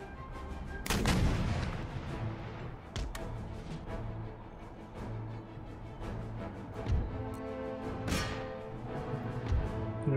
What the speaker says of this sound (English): Enemy general's been struck off by a round shot from my artillery.